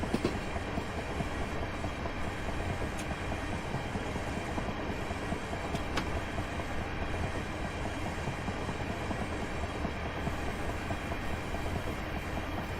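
A Class 375 electric train coasts downhill with power idled on the London Victoria to Ramsgate line in Train Simulator 2018, giving a steady rumbling interior run with rhythmic wheel clatter and a few sharp clicks.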